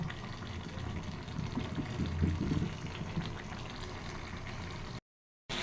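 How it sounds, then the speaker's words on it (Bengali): Water poured into a pan of spiced curry to make gravy, a steady low gushing splash that swells in the middle and runs continuously before a brief cut-out near the end. "তারপরে ঝোলের জন্য জল দিয়ে দিব"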